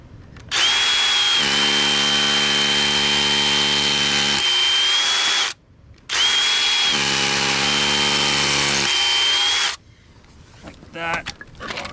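Power drill driving a Tapcon concrete screw at a deck column pour site, two loud sustained whirring bursts of about five seconds each with a brief pause between, followed by quieter handling noise.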